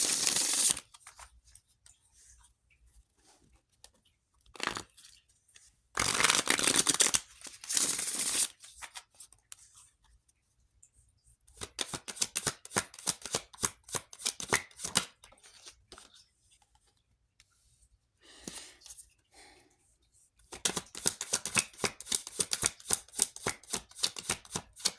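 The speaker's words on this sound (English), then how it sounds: "I'm going to go ahead and do a quick shuffle here." Tarot cards shuffled by hand in a quick session, close-up riffling bursts and rapid rhythmic flicking separated by short quiet gaps.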